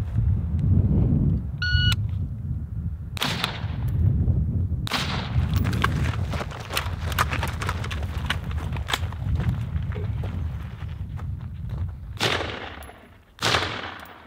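Rifle shots fired during a timed drill on a shooting range, starting after a beep with several loud sharp cracks, then rapid bursts of close fire and a final pair of shots, with no talk.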